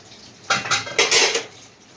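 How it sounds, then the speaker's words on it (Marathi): Dishes being washed and scrubbed by hand, with a few close, bright clatters and scraping bursts of pots and utensils over about a second, then quiet again. "अशी धुते, भांडी घासते"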